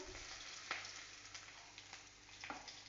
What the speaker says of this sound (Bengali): এই যে তেল গরম হয়ে গেছে রসুনগুলো দিয়ে দিলাম এই যে কাঁচামরিচ দিলাম এই যে পাঁচ ফোড়ন দিলাম